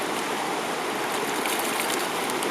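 Water flows steadily during gold panning outdoors in nature, a continuous broadband rush like a stream that keeps up at the same loudness throughout, with no voices.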